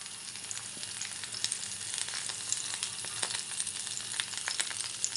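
Raw green mango and tomato pieces sizzle steadily in a pan for a chutney, a dense, even frying hiss with scattered small pops, no voices.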